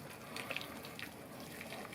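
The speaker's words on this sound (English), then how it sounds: "I've just boiled the kettle, so I've got boiling hot water, and I'm going to scald the top of this" Boiling water from a kettle pours in a soft, continuous stream over pork in a kitchen sink, faint and close, with light splashing and no talk.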